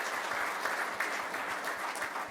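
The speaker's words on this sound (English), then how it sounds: "I wonder if you could give yourselves a clap, Rotary Melbourne, for all the support you've given us since inception" A Rotary Melbourne audience at a World Environment Day event claps steadily, a dense, even wash of applause from many hands throughout.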